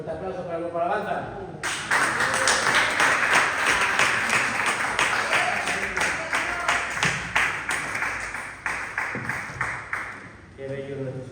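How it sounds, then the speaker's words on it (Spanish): A church congregation bursts into loud, sustained applause for the praise and worship band, the dense clapping starting abruptly after a brief voice and carrying on steadily before tapering off. "Un fuerte aplauso para el grupo Alabanza."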